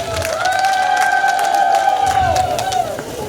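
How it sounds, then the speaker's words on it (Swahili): A crowd at a Women's Day event in Singida applauds and cheers for the regional commissioner, steady loud clapping with women's ululation rising high over it. "Wanawake tuongeze makofi kwa mkuu wa mkoa"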